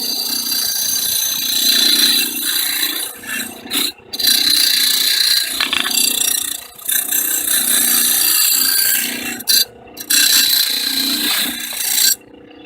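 A wire wheel strips rust and paint from a metal air cleaner part for a 1973 Gravely C8 Custom Convertible, a loud, close, continuous abrasive whir and scrape that surges and dips as the part is pressed against the wheel, with a few brief breaks.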